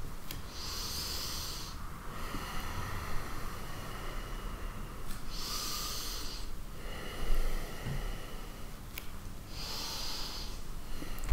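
Slow, deliberate breathing during a prenatal yoga exercise, heard as three long, airy breaths spaced several seconds apart, close and soft over quiet background hiss.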